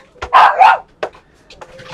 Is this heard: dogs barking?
yes